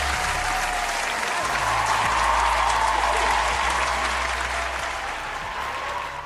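A canned applause sound effect is triggered by a button during a livestream, producing a full, sustained crowd clapping and cheering that holds steady for about six seconds with a low hum underneath.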